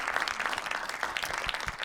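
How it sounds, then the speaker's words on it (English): A studio audience applauds during a talk-show interview, a dense, continuous patter of many hands clapping at close range, steady and even throughout. "Thank you for applauding."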